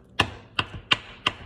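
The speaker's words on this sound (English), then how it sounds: "you want to start out by poking some holes in your steak to marinate it" A utensil jabs into a raw steak four times at an even pace, each stab a sharp, close knock against the board with brief gaps between, no talking.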